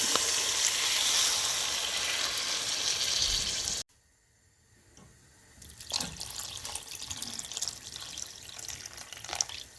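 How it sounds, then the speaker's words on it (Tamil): Loud frying sizzle and splashing water fill the first few seconds as water is added to a mutton curry pan, cut off abruptly, then a steady hissing sizzle builds back up; no speech. "எனக்கு தேவையான அளவு கிரேவி எவ்வளோ தேவையோ அதுக்கு அளவுக்கு தண்ணியை ஆட் பண்ணுறேன்"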